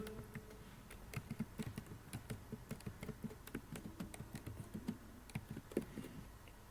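Someone types the brand name Rubbermate on a computer keyboard. Soft, quiet key clicks patter in a quick, steady rhythm with no talking.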